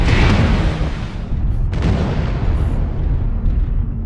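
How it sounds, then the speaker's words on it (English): A heavy artillery strike in a MechWarrior-style mech combat game: a deep, rumbling blast with a sharp crack partway through, then a sustained low roar that lingers to the end. "Artillery strike."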